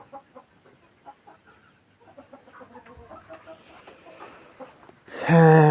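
Chickens cluck in short, scattered bursts at close to moderate range, soft and intermittent over a quiet background, ending with a sudden loud, sustained call.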